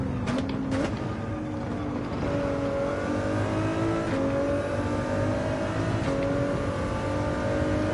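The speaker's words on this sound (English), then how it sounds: "This Ford GT." A Ford GT's engine revs steadily in the racing game Gran Turismo 7, a continuous layered drone with rising and falling tones that holds up loudly for the whole stretch.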